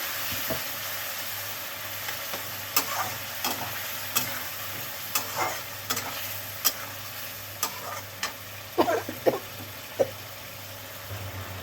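Spice paste for a light fish and potato curry with nigella seeds is stir-fried in a pan, a steady sizzle punctuated by sharp, irregular scraping clicks of a spatula against the metal.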